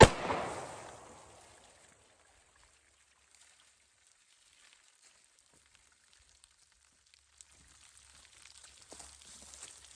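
One .45 ACP 230-grain FMJ hardball pistol round fires at a target, a single loud, close report whose ringing tail fades over about a second, followed by near silence.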